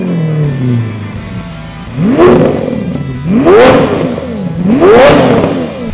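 A Lamborghini Aventador Liberty Walk Roadster on its stock exhaust revs three times in a row, each blip climbing and falling smoothly, loud and close with a steady idle between pulls and no talking.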